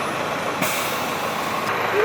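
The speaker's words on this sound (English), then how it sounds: "So that's the bus I came here on, the Sky bus" An airport Sky bus hisses its air brakes in a broad, loud rush of noise, with steady engine rumble underneath and a faint beep near the end.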